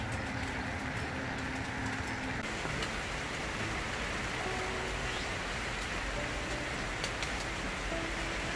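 Steady rain falls around a tent set on a second-floor deck, a continuous soft hiss with scattered drops pattering on surfaces, close and even throughout.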